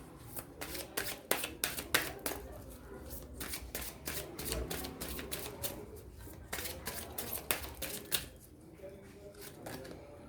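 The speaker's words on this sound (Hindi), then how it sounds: "यहाँ से मैं 3 कार्ड्स और निकालूंगी" Tarot cards are shuffled and drawn by hand, crisp riffling flutters and slaps in quick irregular bursts, close and fairly quiet, with faint speech in the background.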